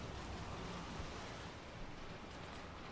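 Water Fury spell from Lord of the Rings: The Third Age, heard as a loud, steady rushing wash of water like pounding surf that fills the whole moment without a break.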